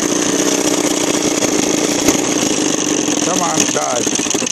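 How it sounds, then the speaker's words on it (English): A motor with a failing stator runs on a test stand, droning loud and steady throughout while someone talks over it. "let me see if I can kill this motor a minute"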